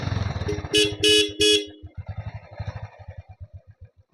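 A Royal Enfield Bullet motorcycle idles nearby with its steady, loping thump, while a horn sounds in several short toots near the start before the engine carries on alone.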